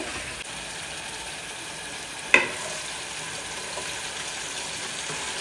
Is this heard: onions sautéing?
yes